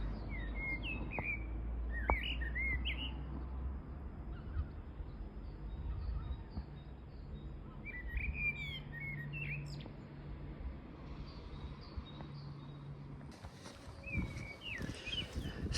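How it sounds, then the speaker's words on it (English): A blackbird sings from an ash tree on Steephill Down near Ventnor, its fluting phrases and chirps coming in short bursts at moderate distance over a steady outdoor wind-and-footstep rumble. "There's a blackbird sat in that ash tree."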